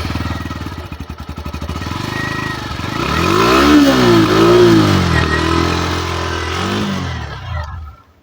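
A Hero Glamour 125X 125cc motorcycle engine idles with a pulsing exhaust thrum, then revs up and settles back before cutting off, close and fairly loud.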